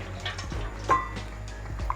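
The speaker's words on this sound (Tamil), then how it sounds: "நிறைய தண்ணி விடாமல் கொஞ்சம் கொஞ்சமாக கரைச்சி இந்த புளியை எடுக்கிறேன்" Soaked tamarind is squeezed and worked by hand in a small amount of water in a pot, producing soft close wet squelches and faint drips in short irregular bursts.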